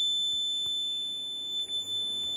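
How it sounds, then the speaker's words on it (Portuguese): A steady high-pitched electronic alarm tone from a Keletron 60-amp power supply's overvoltage protection sounds continuously from start to end, with faint low background noise and a brief dip near the end. "já disparou o alarme"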